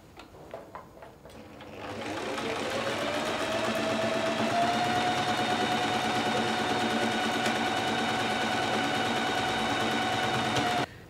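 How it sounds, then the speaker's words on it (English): A sewing machine stitching buttonholes on a summer dress, starting with a few short stutters and then running at a steady, continuous hum for about nine seconds with no talking. "so you can carry on and sew the other 3"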